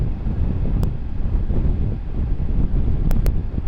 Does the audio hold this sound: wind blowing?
yes